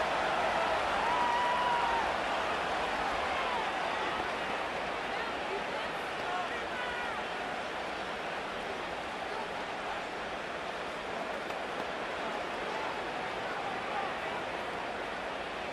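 Stadium crowd in a Madden NFL 25 simulated Ravens vs. Cowboys football game, a dense, continuous roar of fans holding steady throughout at a loud, even level.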